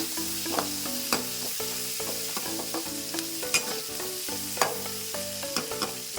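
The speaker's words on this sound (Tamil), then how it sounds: "நல்லா ஆயிலில் நல்லா ஃப்ரை பண்ணிக்கோங்க." Mustard seeds, curry leaves, onion and green chili fry in hot oil with a steady sizzle, broken by regular scraping stirs from a utensil, with no voice.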